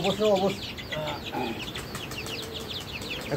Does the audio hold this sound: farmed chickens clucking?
yes